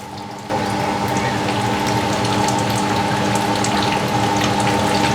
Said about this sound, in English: you put this coconut milk 400 ml, you put only half